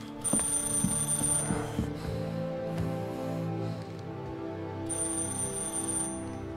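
A telephone rings in the video game Mafia: Definitive Edition, a steady electronic ring with a high tone that drops out and returns, over a tense music score with no speech.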